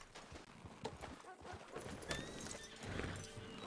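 Horse hooves clip-clop at a steady gait in the video game Red Dead Redemption 2, with a whinny and other game sounds mixed in, moderately loud and close.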